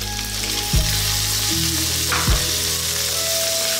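Frozen shrimp frying in a pan with browned minced pork, a steady loud sizzle with a couple of brief stirring scrapes, alone without speech.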